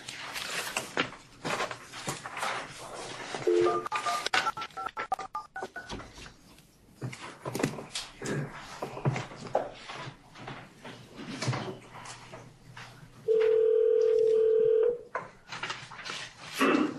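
Telephone touch-tone dialing at a commission meeting in Albany: a rapid burst of DTMF key beeps followed by a long, steady tone, heard amid room chatter and handling noise.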